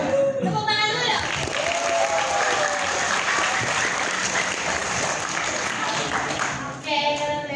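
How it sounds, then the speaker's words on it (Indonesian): High school students on a campus visit to Unpad clap together in a loud, sustained burst of applause lasting several seconds, with a few cheers mixed in before it tapers off. "Tepuk tangan dulu dong."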